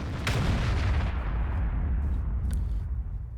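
Tank gun firing in the World of Tanks video game, a heavy, loud boom with a long rumbling decay that fills the whole clip, with no talk over it.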